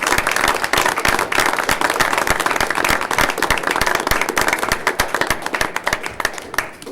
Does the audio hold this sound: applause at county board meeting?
yes